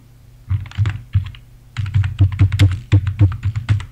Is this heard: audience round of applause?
no